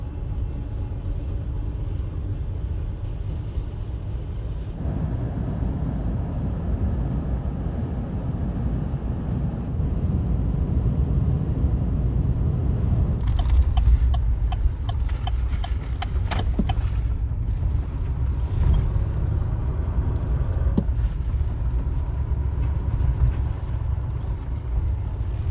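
A truck drives down the road, heading out to collect a trailer, with a steady, loud low engine and road rumble throughout. Wind buffets the microphone, and the noise grows rougher in the second half. No one speaks.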